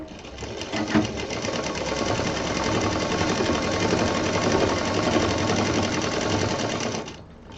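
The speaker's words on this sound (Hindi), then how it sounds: "इसको जो लाइनিंग है हमारी इसको सिल देंगे" A sewing machine stitching the lining of a handbag, a loud, steady rapid mechanical whir that runs continuously for several seconds and then stops, with no talking.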